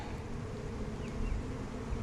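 Honey bees on a brood frame lifted from a hive, a dense steady buzz of many insects close to the microphone, continuous and even throughout.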